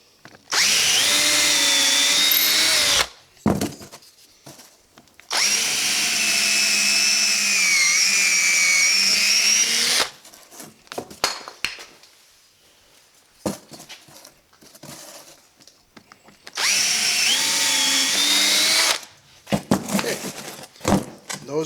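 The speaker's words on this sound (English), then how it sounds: "just drill a pilot hole, because I don't want to split my wood" A power drill bores a pilot hole into a wooden board, whirring loudly in three sustained bursts with quieter gaps of handling noise between them.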